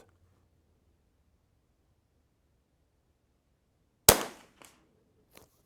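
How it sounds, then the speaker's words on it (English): A rimfire rifle, an Anschutz 1727F loaded with Eley Ultra ammunition, fires a single sharp crack after a long quiet pause, followed by two faint clicks, outdoors and alone. "Let's put 5 or 6 shots downrange."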